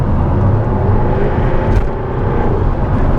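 A Jaguar F-Type R with a 5.0-litre V8 accelerates with its exhaust valves open, a loud, continuous engine roar heard close and steady throughout with no talking.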